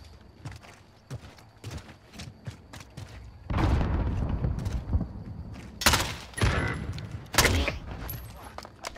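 MK2 carbine fire in a first-person shooter, distant rapid cracks early on then several loud close bursts of shots later over game ambience.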